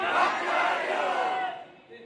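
A crowd at an Islamic religious gathering shouts a unified chant in reply to a slogan, a loud, dense burst of many voices that holds for about a second and a half and then fades.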